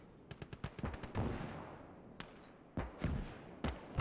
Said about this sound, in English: Oh, it's anti-tank gun.